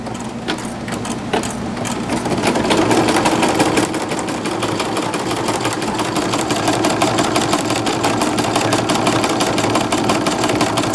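An embroidery machine stitches a design into PUL fabric for cloth diapers, a steady rapid mechanical chatter of needle strokes running continuously and close, with no speech over it.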